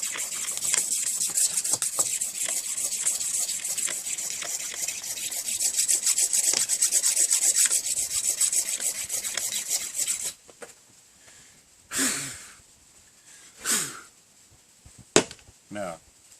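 A Victorinox Fieldmaster Swiss Army knife scrapes the waxy, chalky outer layer off bamboo in fast, continuous rasping strokes up close, then a few separate slower scrapes follow after a pause.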